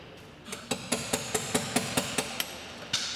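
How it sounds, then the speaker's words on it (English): A chisel is struck repeatedly with a hammer to remove the plaster holding a fig leaf onto a sculpture, producing a steady series of about a dozen sharp, ringing taps at close range. "I'm going to start gingerly chiseling away, delicately chiseling away the plaster, attaching the fig leaf to the sculpture"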